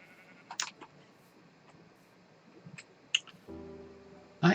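Minecraft sheep bleat in the video game, a couple of short soft calls standing out over a quiet low background near the end.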